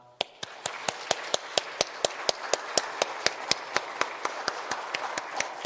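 Church congregation clapping together in a steady, evenly spaced rhythm, about twenty sharp claps in quick succession, fairly close and alone without talk.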